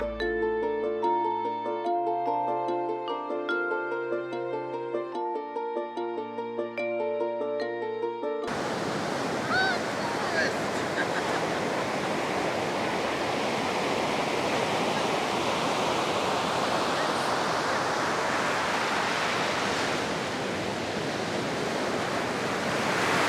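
Ocean surf breaking on the beach at Cocoa Beach on Florida's Space Coast around sunrise, a steady broad wash of waves with wind noise that fills the clip after a short musical intro.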